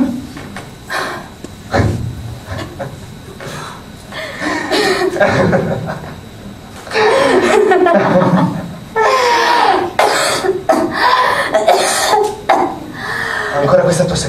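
Several dry coughs from a woman punctuate a conversation between close voices, with chuckling mixed in.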